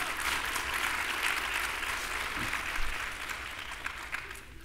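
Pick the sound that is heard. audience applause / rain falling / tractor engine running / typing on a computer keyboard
audience applause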